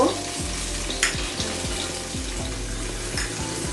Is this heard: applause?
no